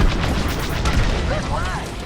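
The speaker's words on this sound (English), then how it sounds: "Under heavy fire." Heavy booming explosions and blaster fire in the space combat game Star Wars Squadrons, deep rumbling blasts rolling continuously with bright zapping bursts, loud and close, with a voice speaking over the battle.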